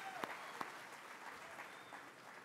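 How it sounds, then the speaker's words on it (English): An audience applauds at the Cherokee National Holiday State of the Nation gathering; soft, distant, steady clapping from a crowd, with two brief sharp knocks near the start. "Let's give the Creator another round of applause for bringing us all together"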